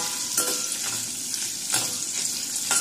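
Onion and ginger sautéing in a pan for potato stew, a steady close sizzle with a couple of brief scraping stirs, no talking.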